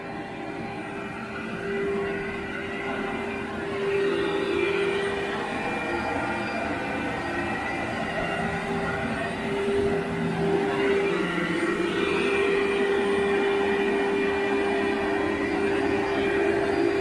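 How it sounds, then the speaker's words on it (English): A Turbo Cat vacuum cleaner works over a carpet with a steady, loud, droning whine that holds a constant tone, swelling slightly as it moves, with no talking. "What kind of vacuum do you have? It's a Turbo Cat."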